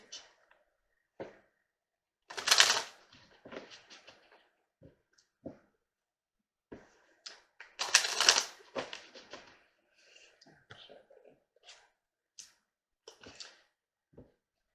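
Law of Attraction oracle cards being shuffled, quiet bursts of riffling and flicking separated by pauses, with a few soft taps as cards are handled and set down, close and otherwise silent.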